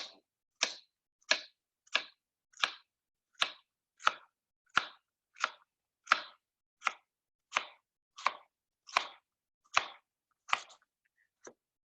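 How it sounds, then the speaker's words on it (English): A knife chops cucumber on a cutting board in about seventeen crisp, evenly spaced strokes, close and clear against a quiet kitchen, with no talking. "So go ahead and keep chopping your cucumber."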